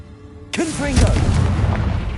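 A Confringo blasting spell goes off in Hogwarts Legacy inside a cave, landing as a sudden loud boom with a crackling, rumbling tail that rolls on to the end.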